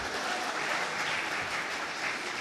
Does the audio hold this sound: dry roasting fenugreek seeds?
no